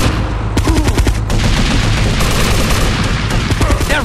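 Rapid automatic gunfire in the video game GTA Vice City Stories, loud and dense, with repeated shots rattling almost continuously throughout the short stretch.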